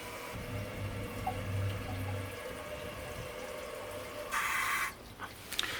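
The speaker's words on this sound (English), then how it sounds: "Next flush is just going to be a water saving flush." A water-saving flush of a 1957 Universal Rundle toilet in Dresden Blue, done with only a little water in the tank: a steady, moderate rush of water runs throughout, with a brief louder surge near the end.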